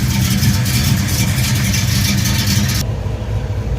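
A 1968 Buick GS 400 idles through a 3-inch exhaust, giving a deep, steady, throbbing rumble that stays loud and near for the few seconds before its higher hiss cuts away.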